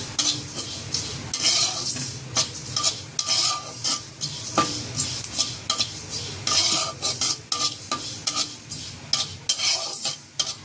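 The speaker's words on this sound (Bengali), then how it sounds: "প্রথমে এখন শুকনো কড়াই ভেজে নেব কালো জিরা।" Nigella seeds (kalo jira) dry-roast in an empty karahi, a spoon stirring and scraping against the metal with light crackle and clatter, close and fairly loud throughout.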